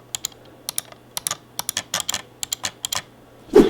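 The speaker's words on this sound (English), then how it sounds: "And here's what the Logitech G502 sounds like." Button clicks from a Logitech G502 mouse sound as a series of sharp, close, dry taps in irregular quick succession, some in pairs, over a faint steady hum and with no talking.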